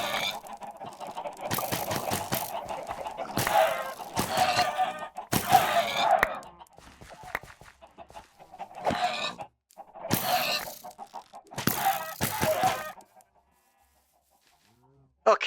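Minecraft chickens cluck in repeated short bursts separated by gaps, fairly loud and close, with a few softer stretches and a quiet pause before a last burst.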